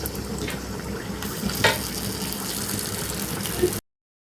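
Pitha batter dropped into hot oil on a stove, giving a steady close hiss and crackle of frying that runs unbroken for a few seconds before cutting out.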